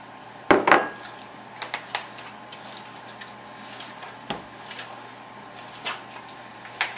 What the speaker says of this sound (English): dump my yellow onion, my jalapenos in here. Mix that up a little bit.